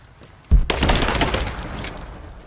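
Gunfire in the video game Rise of the Tomb Raider: a sudden loud burst of shots opens a dense, sustained volley of cracks and rumbling impacts that slowly fades over a couple of seconds.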